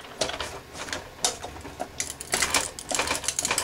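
A die-cutting machine pressing a sheet of tin sandwiched between plastic plates, producing a rattling mechanical clatter and grinding clicks that build in intensity, close by and without speech.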